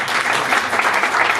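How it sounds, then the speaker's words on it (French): An audience at a French talk event applauds a newly introduced guest, a dense, steady wash of clapping from many hands held throughout at full loudness. "Vous pouvez applaudir"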